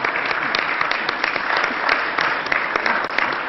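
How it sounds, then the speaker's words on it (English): Steady applause fills the room, many people clapping at once in a dense, even wash of sound with no voices over it. "Please give them a round of applause."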